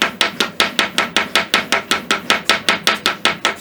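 Rapid, evenly spaced light hammer taps, about five per second and close by, fit a nose cap onto a Kibler colonial flintlock barrel that serves as the anvil; each strike is sharp and ringing, with no talk.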